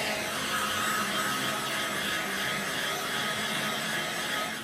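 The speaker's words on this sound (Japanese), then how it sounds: "もう余計暑いよね、ドライヤーで。" Hair dryer blowing hot air while drying hair at night, a steady, loud broadband whoosh that holds unbroken throughout, with no voices over it.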